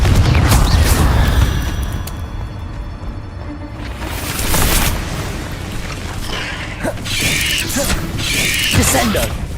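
Confringo fire spell explosions in Hogwarts Legacy, played on hard difficulty: repeated loud booming blasts with crackling bursts, one heavy impact at the start and more bursts later, under a dense game soundscape.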